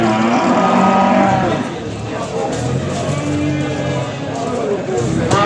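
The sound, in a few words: cattle mooing, calves at livestock market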